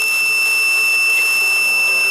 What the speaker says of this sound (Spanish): Esta es la medición sonora de continuidad.